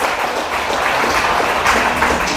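Audience applause during a comedy performance at a temple fair, a dense steady patter of many hands clapping without a break, close and fairly loud throughout.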